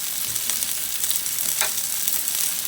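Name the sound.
chicken frying in a pan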